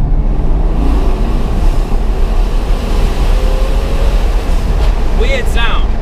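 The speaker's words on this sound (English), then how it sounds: "listen to the difference when you accelerate, when you've got the valve closed, to when you have it open" A Ferrari F12 engine accelerating in third gear with the exhaust valve closed, a steady loud low drone filling the clip, overlaid with heavy wind rush, with a short rising whine near the end.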